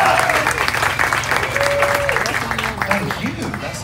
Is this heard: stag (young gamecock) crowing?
no